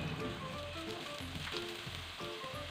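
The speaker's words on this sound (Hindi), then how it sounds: "1 मिनट के लिए प्याज को सौते करके इसको नरम कर लेना है" Chopped onions sautéing in a pan for kabab filling, a steady soft sizzle with faint crackles and occasional clinks, close and continuous without speech.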